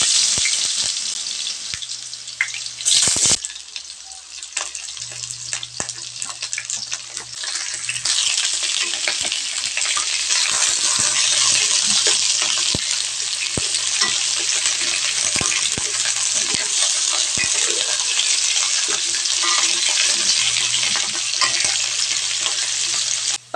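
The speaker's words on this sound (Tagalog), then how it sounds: "Maglagay lang tayo ng mantika sa mainit na kawali, guys. Pag mainit na, ilagay lang natin yung patatas." Potatoes frying in hot oil in a pan, a loud, dense crackling sizzle heard close, broken by short stirring scrapes and a brief clatter near the start, with no talking.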